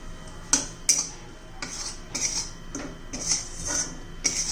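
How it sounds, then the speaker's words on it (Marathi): Gram flour (besan) dry-roasting in a small pan while a spoon scrapes and stirs it, giving a series of close, sharp metallic scrapes and clinks at an uneven rhythm, with no talking. "त्यामध्ये थोडस बेसन पीठ घेऊन घालून घेऊया छान असं भाजून घ्यायचं आहे"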